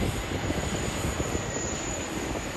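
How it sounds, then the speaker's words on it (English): A Qantas Boeing 787-9 airliner, registration VH-ZNC on flight QF75 to Vancouver, takes off at Sydney Airport, its engines giving a steady, broad jet roar heard from a distance with no voices. "Aircraft registration VHZNC and flight number QF75 to Vancouver, Boeing 7879."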